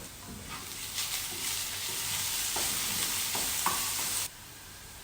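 Onions sauté in lard for corned beef and potatoes, a steady close sizzle with soft stirring scrapes throughout, dropping quieter near the end.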